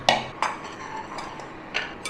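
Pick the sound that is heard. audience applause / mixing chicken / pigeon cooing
mixing chicken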